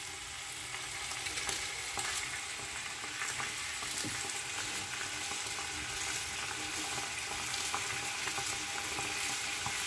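Onion and chickpeas fry in hot oil in a pot while couscous with dried meat is prepared, a loud, even crackling sizzle with stirring scrapes running close up for the full stretch, no speech.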